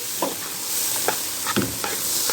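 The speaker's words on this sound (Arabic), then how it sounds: "يعني انا عايزه اقول لكم ان اهم برضو حاجه في الرز ان انا اشوحه حلو قوي" Rice and vermicelli being sautéed in a pot, a spoon stirring and scraping through the grains in uneven strokes over a steady soft sizzle, close up and without talk.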